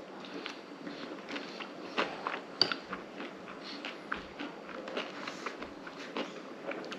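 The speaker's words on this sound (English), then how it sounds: "yeah, crunch. That granola's like coconut and cacao or something." Crunchy coconut and cacao granola chewed close to the mic, a steady run of crisp, irregular crunches and bites with no talking.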